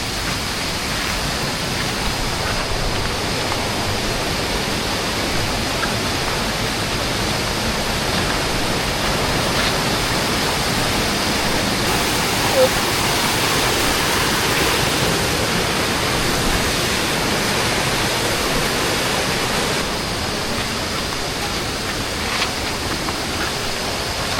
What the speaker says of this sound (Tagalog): Nagbublo-blo pa yung tubig.